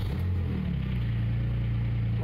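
A Porsche 996 Turbo engine, just back together after a steering rack repair, catches and settles into a steady, loud low idle. The start is rough and then smooths into a continuous rumble, close by, with no other sounds.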